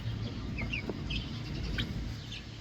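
Chickens on a homestead, including white-faced birds with fluffy legs, cluck and give short scattered calls over a steady low background murmur, at moderate distance.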